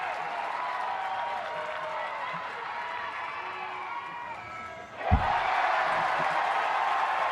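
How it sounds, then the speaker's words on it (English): A crowd roars steadily at a Texas Tech versus Florida NCAA Super Regional softball game, then a sharp knock is followed by louder, sustained cheering and clapping. "Boy, the crowd is really amped up as well."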